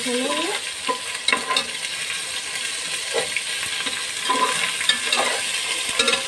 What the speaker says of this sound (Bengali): ভাজা হয়ে গেছে, এখন দেব আদা বাটা, রসুন বাটা।